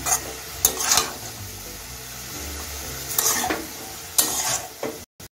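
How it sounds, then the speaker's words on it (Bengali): Spinach (palong shaak) being stirred in a pan as it cooks in its own released water: several spoon scrapes and clinks over a soft sizzle, close and moderately loud. "এখন আমি শাকটা নেড়ে চেড়ে রান্না করে নেব।"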